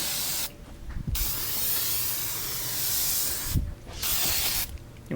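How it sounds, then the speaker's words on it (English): Silicone lubricant sprayed from an aerosol can onto the stem O-ring of a Jandy-Zodiac cartridge pool filter, heard as two close, loud bursts of hissing spray, a long one followed by a shorter one, with small handling clicks in between. "Go ahead and spray some silicone on the stem O-ring."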